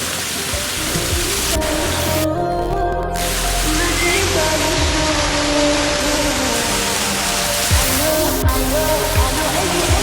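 Arda waterfall in Balangir roaring steadily as dense, broadband rushing water, loud and continuous, with a few brief clicks and handling noises and no clear talking over it.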